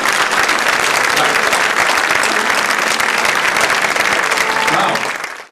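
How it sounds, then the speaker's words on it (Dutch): Loud, dense applause from an event audience greets the nominees, a steady roar of clapping that holds evenly for about five seconds before cutting off. "Geef ze een applaus alsjeblieft."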